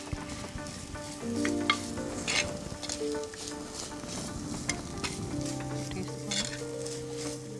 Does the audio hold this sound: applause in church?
no